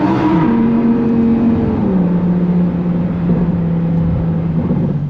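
A Lamborghini Huracan Performante's V10 engine pulls hard, a loud, close engine note rising through the revs and then settling into a steady high drone as the car accelerates, with no talking.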